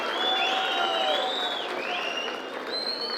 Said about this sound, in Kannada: ಜೋರಾದ ಚಪ್ಪಾಳೆಯನ್ನ ಕೊಡ್ಬೇಕಾಗಿ ವಿನಂತಿ.